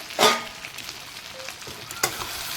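Potatoes are stirred and tossed in a sizzling pan for a goat head curry, two sharp clattering scrapes of the spoon standing out over a soft, continuous frying hiss, with no talking.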